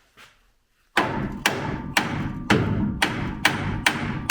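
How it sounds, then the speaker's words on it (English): A hammer strikes a front-end part on a 1982 air-cooled VW Vanagon Westfalia, giving seven or eight close, heavy metallic thuds at an even pace of about two per second, after a brief quiet start. "a little bang of a hammer will make that happen"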